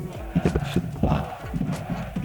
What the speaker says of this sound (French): T'as des chevaux